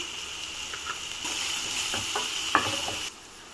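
Coriander powder stirred into vegetables frying in a pan, a steady hiss with light, quiet scraping taps from a spoon, the sizzle easing near the end.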